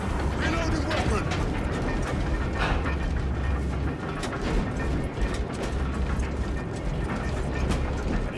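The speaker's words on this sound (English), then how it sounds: "The elevator is almost here." Grinding, ratcheting elevator machinery in Warhammer 40,000 Space Marine 2 runs steadily and loudly throughout, with clanking gear-like mechanical churn and voices and combat noise layered over it.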